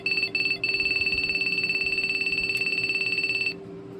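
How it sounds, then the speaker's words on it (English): A Radionics 8112 burglar alarm panel sounds its tone, a loud rapid pulsing high electronic beep that runs steadily, then cuts off and leaves a faint steady hum. "So that's the burglar alarm tone."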